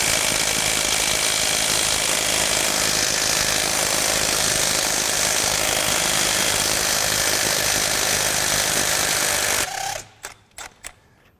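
A Milwaukee M12 FUEL right angle impact wrench hammers loudly and continuously on a lug nut rated at 165 foot-pounds, a rapid rattling burst that cuts off near the end, followed by a few short clicks.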